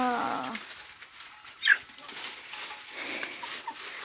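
Faint farmyard ambience with a single short, sharp bird call from a chicken partway through, otherwise quiet background.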